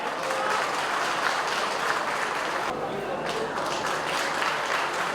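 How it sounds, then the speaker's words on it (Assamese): An outdoor crowd at a land patta distribution ceremony in Chapakhowa, Sadiya claps in a steady, sustained burst of applause. The clapping is dense and even, with a brief dip partway through. "জাউৰীয়ে হাত চাপৰি দিয়ক"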